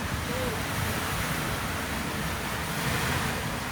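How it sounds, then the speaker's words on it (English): Ocean set waves wash against a sailing boat at sea between Vanuatu and the Solomon Islands, a constant loud broadband rush of surf and water mixed with wind noise, close and unbroken throughout. "Couple of set waves."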